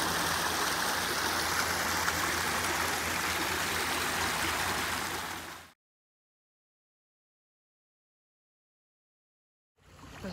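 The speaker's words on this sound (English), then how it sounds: "We got some running water. I hope you can hear it." Running water from a small stream beneath a greenway bridge, a steady close babbling rush for about six seconds before cutting to silence, then briefly returning at the end.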